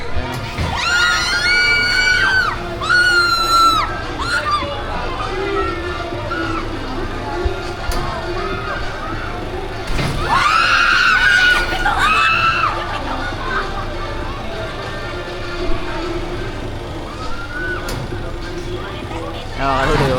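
People scream and shriek on an amusement ride at Sky Ranch Tagaytay, rising high-pitched group yells in two main waves over crowd chatter and background park noise.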